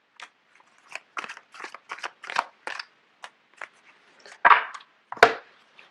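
Tarot cards are shuffled by hand in a run of short, irregular papery riffles and slaps, growing louder toward the end, with no talking.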